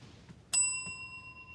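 A single bright ding of a small hand bell, struck once and left ringing with a clear sustained tone that slowly fades, with faint background noise before it and no talking.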